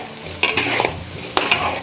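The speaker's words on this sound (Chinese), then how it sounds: "加入黑芝麻油，生姜放上去爆香" Sliced ginger sizzles in black sesame oil in a pan, a loud close crackle with two sharp bursts of spatula scraping and clatter over the steady frying hiss.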